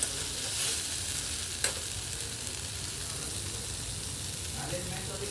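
Water hits a pan of frying soybean chunks and potato in oil, setting off a loud, continuous sizzle with a sharp utensil clink early on and steady crackling throughout, close up.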